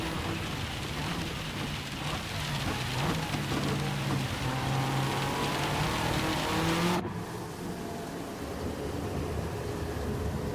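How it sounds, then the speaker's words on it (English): Rain falls steadily on a wet track in Gran Turismo 7 during a race at Le Mans. It makes a constant hiss, and a car engine drones and shifts beneath it before the sound cuts abruptly near the end. "It's still raining, so we're still getting a wetter track."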